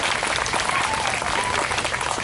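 A crowd at a Canada Day celebration, marking the 150th anniversary, gives students a round of applause, a dense, even wash of clapping filling the short stretch at steady volume.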